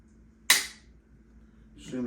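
A single sharp dry-fire click from a Browning Medallion or Tikka T3X rifle trigger breaking cleanly, close and crisp, fading quickly into a quiet room, with a voice starting up just after.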